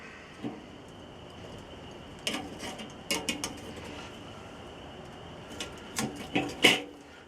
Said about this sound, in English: We're going to flip both of our grates up.